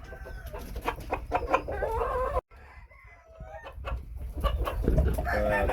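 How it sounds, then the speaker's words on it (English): Phoenix chickens, a breed descended from the Japanese Onagadori, cluck and call on a farm in a quick run of close, bright bursts, then a short drop to quieter scratchy sounds before the clucking swells again. "Phoenix chickens are descendants of a Japanese chicken called the Anagadori."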